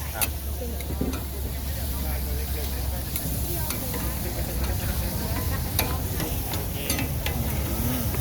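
Pork sizzles steadily on a Thai moo kratha grill pan with dipping sauce at a budget barbecue spot, a dense, continuous frying hiss with small crackles throughout, while voices murmur faintly underneath.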